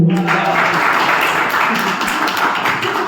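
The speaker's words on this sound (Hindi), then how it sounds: "सबसे पहले जोरदार तालियां मेरे दोस्त के लिए इतनी अच्छी होस्टिंग करने के लिए" Enthusiastic applause from office colleagues at an Independence Day celebration for the event host, dense continuous clapping throughout, with some voices underneath.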